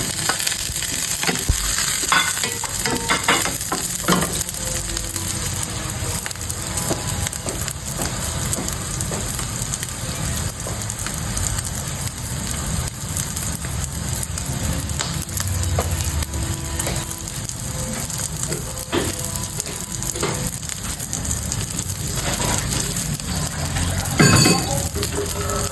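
Meatballs sizzle in a hot pan for a meatball sotanghon soup, a loud, continuous close frying hiss with occasional clinks and stirring scrapes, no voices.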